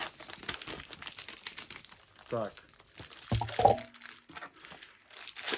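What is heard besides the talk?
opening a plastic mailer bag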